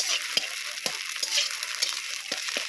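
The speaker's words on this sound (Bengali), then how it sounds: "খুন্তি দিয়ে এইভাবে একদম ঝুরো করে ভেজে নিতে হবে" Eggs are broken up and fried into crumbly bits with a spatula for a cheap egg pasta, giving a steady hiss of frying and regular spatula scrapes against the pan about every half second, close and unaccompanied by talking.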